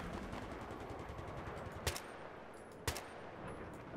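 Two sharp, isolated gunshots crack about a second apart over a rushing ambient bed in the Battlefield 3 Border Wars map, moderately loud, no voice.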